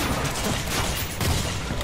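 Rapid automatic fire from the HMTech 401 medic assault rifle in the Killing Floor 2 video game, a dense, loud and continuous stream of shots that fills the whole stretch without pause.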